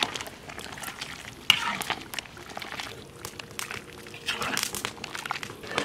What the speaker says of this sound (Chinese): 面煮熟了，把炒好的葫芦倒进去。